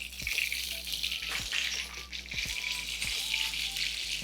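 A breaded beef milanesa steak fries in oil, a steady close sizzle with faint crackles and pops, no talking.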